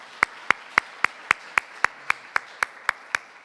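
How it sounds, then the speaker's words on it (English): Audience at a PSS and 3MT competition final claps for the participants in a slow, even rhythm: about thirteen sharp, evenly spaced claps, close and distinct, with no other sound around them. "let's congratulate and a round of applause to all of the participants"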